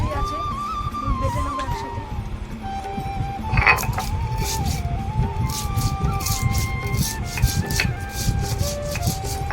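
Mustard and poppy seeds ground on a grinding stone make a steady, close rasping and rubbing that runs in repeated strokes, partly covered by background music and tones.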